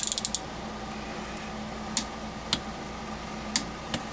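A bolt is turned with a wrench on a Briggs & Stratton engine during a refurbish, giving a few quick clicks at the start, then isolated sharp ratcheting ticks spaced over a quiet background.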